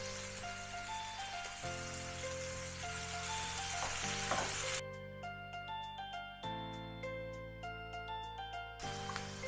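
Chopped tomatoes with salt fry in a pan for a potato masala dosa filling, giving a soft, steady sizzle beneath louder background music throughout.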